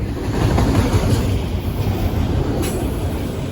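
A freight train including a BNSF auto carrier car rolls past at Bear Mountain, a loud continuous rumble of wagons and wheels close at hand.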